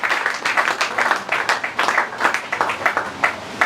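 Church congregation at a Sunday service applauding, dense sustained clapping from many hands in a reverberant hall, steady and fairly loud throughout.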